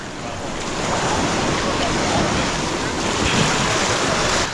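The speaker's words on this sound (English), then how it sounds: "We're gonna use the waves to keep pushing them up." Ocean waves washing in surf at the shore, a steady broad roar that swells slightly and stays loud and continuous, with no talking.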